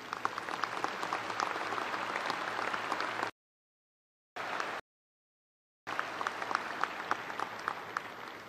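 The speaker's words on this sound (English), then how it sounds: "please give them a round of applause for their exceptional academic achievements" A university commencement crowd applauds graduates with honors, sustained dense clapping in a large hall that cuts out twice in the middle before resuming.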